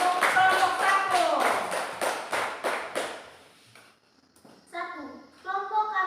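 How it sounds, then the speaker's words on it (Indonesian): A classroom of students claps for the first group in a quick burst of applause lasting a few seconds, then it fades and children's voices begin speaking. "tepuk tangan dulu untuk kelompok 1"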